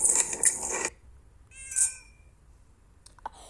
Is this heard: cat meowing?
yes